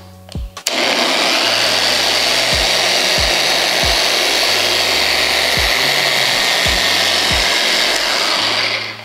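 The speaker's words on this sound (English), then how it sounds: "You're just sitting there having fun with your dual action polisher" A dual action polisher whirs loudly and steadily against car paint for several seconds after a short start, with rhythmic low thumps pulsing under the motor's drone, then winds down at the end.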